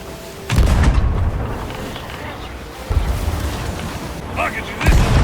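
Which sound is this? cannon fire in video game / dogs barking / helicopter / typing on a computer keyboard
cannon fire in video game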